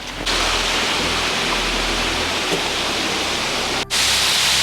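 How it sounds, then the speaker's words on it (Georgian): A small waterfall, Biisi falls in the Tana and Tedzami protected landscape, gives off a steady, dense rush of falling water that stays even and unbroken, with a brief dip near the end and no voices. "და ესეც წინ არის ბიისის ჩანჩქერი"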